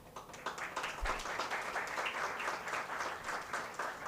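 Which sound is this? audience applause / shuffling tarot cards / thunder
audience applause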